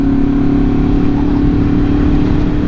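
A replica Honda RC30 race motorcycle, styled after the Rumi bike Fred Merkel raced in 1991, runs loud and close on a bumpy road, its engine holding a steady throbbing drone with a rough low rumble throughout.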